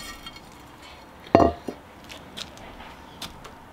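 A lid set onto a container of salted pickled radish: one sharp, close knock followed by a few faint rattles and taps in a quiet room.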